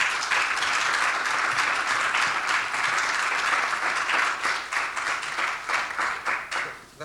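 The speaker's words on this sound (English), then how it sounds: "That was a bigger applause than we got before." An audience at a policy talk on U.S.–Cuba relations applauds with dense clapping that holds steady, then thins into scattered claps and fades toward the end.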